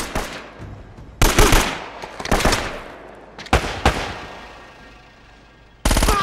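Gunfire in the video game Uncharted crashes out in loud, sharp bursts, several rapid volleys separated by decaying echoes, with no talking.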